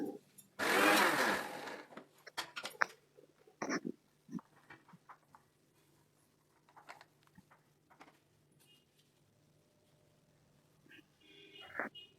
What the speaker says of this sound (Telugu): మళ్ళీ దాన్ని ఇంకొకసారి మిక్సీకి వేసి